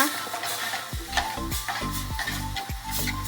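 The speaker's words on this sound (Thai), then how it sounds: "ผัดพริกแกงให้หอมก่อน ผัดให้ฉุนนะฉุนอีกแล้วนะคะ" Curry paste for a jungle curry with straw mushrooms, pork and Thai eggplant stir-fried in a pan: a steady sizzle broken by repeated scraping and knocking strokes of the utensil, about once every half second.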